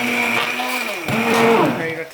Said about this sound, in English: it's time to take our immersion blender and puree these poblanos